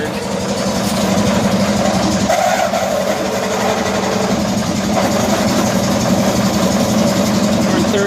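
A 1974 Cushman Truckster engine idles in third gear with a steady, low, rumbling putter close by, continuous and slightly uneven, while someone talks over it.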